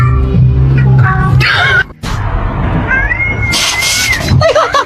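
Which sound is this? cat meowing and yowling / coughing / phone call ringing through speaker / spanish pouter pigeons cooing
cat meowing and yowling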